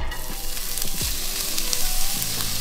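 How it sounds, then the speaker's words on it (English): Chopped onion sizzles in a pan with a little olive oil, a steady close crackling hiss running the whole time with a few soft scraping knocks as it is moved around. "Whack that into the pan. Olive oil in."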